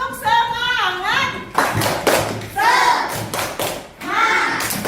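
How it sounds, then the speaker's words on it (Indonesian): A fourth-grade classroom of children chants the rhythmic 'tepuk semangat' together, with sung voices broken by sharp, regular bursts of group hand claps, loud and close. "tepuk semangat."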